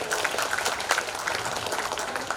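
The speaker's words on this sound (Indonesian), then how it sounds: "tepuk tangan untuk kita semua" Applause from a crowd at a high school graduation ceremony in Bandung, a steady dense patter of many hands clapping throughout, fairly loud and continuous with no clear voices.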